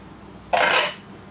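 A knife cuts a half slice of broken glass jello: one short, close scrape with a light clink against the dish, lasting about half a second and standing alone in a quiet room.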